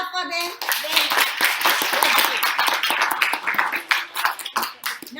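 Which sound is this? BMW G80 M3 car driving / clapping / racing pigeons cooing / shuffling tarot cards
clapping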